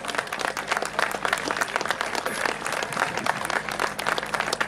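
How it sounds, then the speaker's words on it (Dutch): A crowd at an outdoor Dutch freedom demonstration in Doetinchem applauds the police, with dense, steady clapping and scattered voices underneath. "Een applaus voor de politie."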